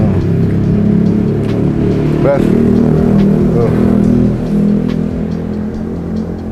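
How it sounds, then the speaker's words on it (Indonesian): Loud aftermarket motorcycle exhaust rumbling and revving close by in an upscale residential housing complex, a raspy engine drone with a rising rev burst, while people talk over it. "ini knalpot pertama di tahun 2022 ya"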